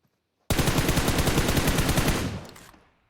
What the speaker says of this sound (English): that is some sort of shooting with the 4x scope